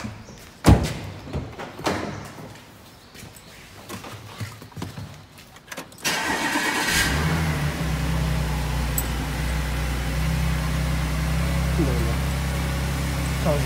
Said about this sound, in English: I'm just going to go and start the car up.